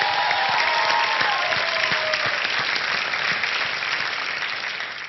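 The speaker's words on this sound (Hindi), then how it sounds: "ऐसी माँ के लिए एक बार जोरदार तालियां हो जाए लेडीज एंड जेंटलमैन।" Loud, dense studio audience applause on a TV talent show, India's Got Talent, a continuous roar of clapping that stays strong and fades a little at the close.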